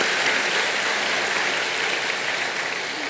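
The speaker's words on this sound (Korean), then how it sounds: "우리 수고하신 우리 CGN TV 직원들 함께 격려의 박수로 함께 축복합니다." A church congregation at a Sunday service applauds together, a dense, even wash of many hands clapping that holds steady with no voices, easing only slightly near the end.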